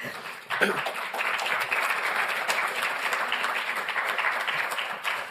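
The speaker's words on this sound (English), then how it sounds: "I think they can get a very big applause as well." An audience applauds panel speakers at a policy event on equal participation in Europe, a full, even burst of many hands clapping that rises quickly and holds steady throughout.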